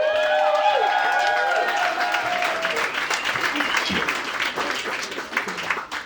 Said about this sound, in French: Faites un tonnerre d'applaudissements pour Nordi!